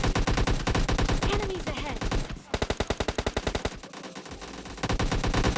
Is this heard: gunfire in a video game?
yes